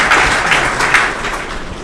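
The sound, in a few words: audience applause at a youth workshop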